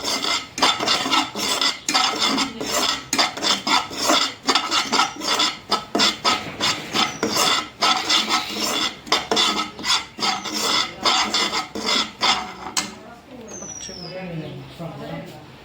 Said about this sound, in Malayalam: ഗരം മസാല ചേർത്തിട്ടുണ്ട് അതൊന്ന് മിക്സ് ചെയ്യണം